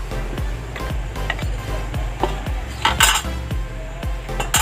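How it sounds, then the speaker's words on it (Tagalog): Beef ribs dropped into a pot of boiling broth for nilaga, a series of loud, sharp metallic clanks and knocks against the pot at an irregular rhythm, up close and alone. "Ilalagay na po natin itong mga buto-buto."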